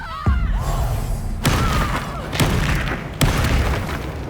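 Spell explosions in the video game Hogwarts Legacy: four heavy booming blasts land about a second apart over a low rumbling combat backdrop, each with a sharp onset and a decaying roar.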